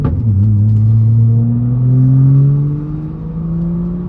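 A straight-piped BMW 335i with the N55 engine and manual gearbox, heard from inside while driving: a loud, close, deep exhaust drone that climbs steadily in pitch as the car pulls, with no talking.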